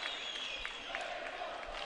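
An Azerbaijani crowd cheers for their boxer at a heavyweight bout of the 2011 AIBA World Championships, a continuous roar with scattered clapping that stays steady and fairly distant.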